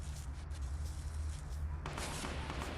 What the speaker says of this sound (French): j'entends les coups de feu retentir